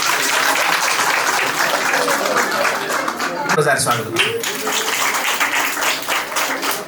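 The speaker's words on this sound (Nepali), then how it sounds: "हामी ताली बजाएर यहाँलाई स्वागत गर्छौँ।" A crowd of guests at a wedding claps in dense, sustained applause of welcome while a voice speaks over it.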